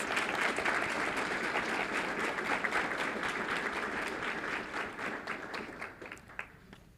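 At a school board meeting, the room applauds a group of high school players, a sustained round of clapping that gradually thins and fades toward the end.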